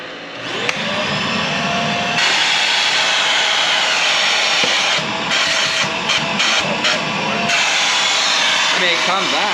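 A cordless vacuum cleaner from a Costco mystery pallet whines loudly and steadily up close, with brief dips and surges as it cuts in and out, and a voice speaks briefly over it.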